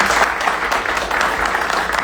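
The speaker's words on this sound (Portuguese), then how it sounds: "Uma salva de palmas mais uma vez." An audience at a literary academy ceremony in Goiás claps steadily and loudly, a dense round of applause that continues throughout.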